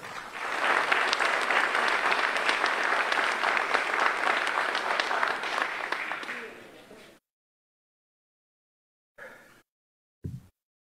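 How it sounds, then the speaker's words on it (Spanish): Crowd at an outdoor road inspection event in Quetzaltenango, Guatemala, giving a loud sustained round of applause for a local council member, dense clapping for about seven seconds, then silence broken by two short bursts of noise. "Un aplauso fuerte para don Martín Rodas"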